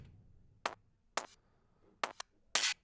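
Four chopped hits from a drum and bass break with transients softened and low end cut, the first carrying a small distorted crash; short bright bursts spaced irregularly against near silence.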